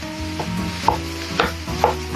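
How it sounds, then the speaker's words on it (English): Ground turkey sautés and sizzles in a pan for a lasagna, a steady frying hiss broken by a few stirring scrapes, close and with no talk. "I'm just gonna saute until it brown."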